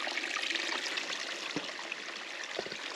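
A small creek full of quartz runs in a continuous soft, hissing trickle with a couple of faint low knocks, and no voices.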